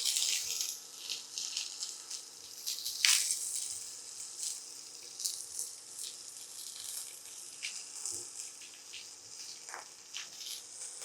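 Mustard seeds, cumin, onion and green chilli frying in a home kitchen pan give a steady close sizzle with scattered pops and crackles throughout, with no talking.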